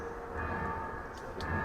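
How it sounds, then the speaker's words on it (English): Bells ring faintly and steadily at an outdoor university convocation ceremony, a sustained tone sitting under a broad wash of crowd and ambient noise. "The bells are now ringing."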